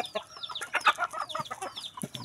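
Chickens being fed their evening meal cluck and squawk in a busy, overlapping flurry of calls, close and moderately loud throughout.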